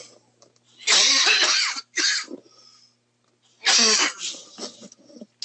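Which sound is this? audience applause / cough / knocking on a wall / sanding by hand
cough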